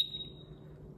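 A Senko MGT portable gas detector gives one thin, high electronic alarm tone. It starts sharply and fades over about half a second, with a low hum behind it and no speech.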